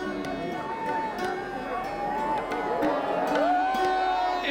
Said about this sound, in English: Everyone's cheering that the sun's come up.